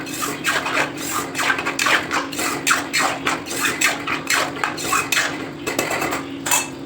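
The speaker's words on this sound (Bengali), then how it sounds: "ভালো করে এটা দিয়ে একটুখানি নাড়াচাড়া করতে হবে, কষাতে হবে।" A utensil scrapes and stirs spices in a cooking pan, a steady rhythm of repeated metallic strokes over a constant low hum.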